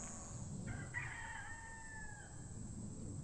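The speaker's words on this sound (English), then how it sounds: "you got a hello from the rooster too" A rooster crows once in the distance, a faint drawn-out call rising and trailing off over a steady background hum.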